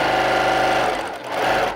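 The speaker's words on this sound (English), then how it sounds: "I love how quickly this machine sews all my pieces" A big, fast semi-industrial sewing machine stitches jelly roll quilt pieces together, its needle running in a loud, rapid, steady mechanical chatter that briefly slows and dips before surging back to full speed.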